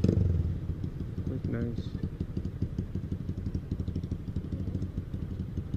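A loud motorcycle engine rumbles and idles nearby with a steady, throbbing clatter, while someone speaks briefly over it.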